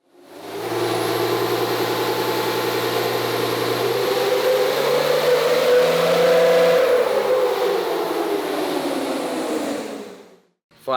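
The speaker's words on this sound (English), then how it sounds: "68 RFE truck on the dyno." A 5.9L diesel quad cab truck with a 68RFE transmission, 63 mm VGT turbo and nitrous, running on a dyno: one loud sustained pull with a rising roar and turbo whine for about ten seconds, then a quick cutoff.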